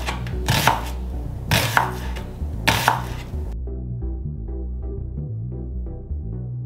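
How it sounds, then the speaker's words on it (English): A knife chops onions on a board in three bursts of rapid, loud strikes, then stops, leaving only a steady background hum. "Just gonna finish chopping up the onions and the rest of stuff."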